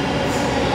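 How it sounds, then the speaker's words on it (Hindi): A metro train rolls into an underground station in Delhi, a loud, steady broadband roar of wheels and motor filling the short moment with no voices. "गाइस अभी हमारी मेट्रो आने वाली है"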